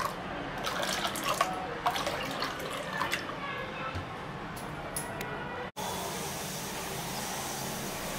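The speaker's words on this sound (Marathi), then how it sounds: "यामध्ये आता आपण थोडं थंड पाणी मिक्स करायचं आहे" Cold water poured into strained pani puri water gives a steady running, splashing pour for several seconds, then cuts off abruptly and leaves a quieter, even background; a voice is faintly present in the mix.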